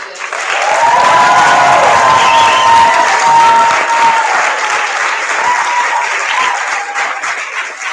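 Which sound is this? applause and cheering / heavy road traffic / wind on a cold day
applause and cheering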